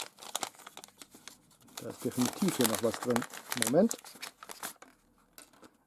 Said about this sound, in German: Indem wir diese Tüte aufmachen und einfach mal reinschauen.